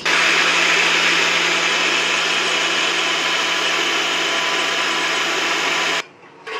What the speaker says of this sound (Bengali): দুটো রকমের সর্ষে নিয়েছি, এবার এটাকে বেটে নেব।